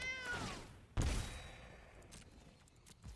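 A cat meows from a card being played in the Magic the Gathering Arena digital card game, a clear descending meow followed by a sharp thud and soft game effects, with no talking.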